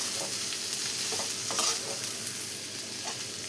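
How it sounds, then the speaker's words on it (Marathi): Cabbage and spring onion greens are stirred in a hot pan, a soft steady sizzle broken by a few scraping stirs of the spoon, close and fairly quiet. "कांद्याची पात आणि कोबी टाकून घेऊ आपण यामध्ये बघा. टाकल्याच्या नंतर असं मस्त सगळं मिक्स करून घेऊ."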